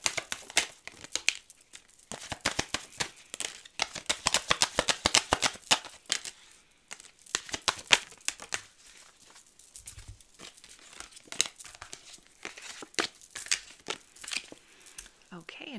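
Message cards being shuffled by hand for a pick-a-card reading, giving repeated crisp riffling and crinkling bursts in uneven runs, close and fairly loud, with brief pauses between handfuls.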